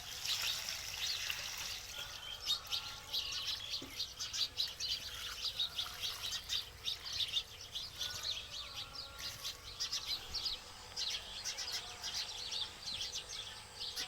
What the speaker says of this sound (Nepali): चरा हाम्रो घरमा आउँछन् अनि चिरबिर बोलिरहेछन्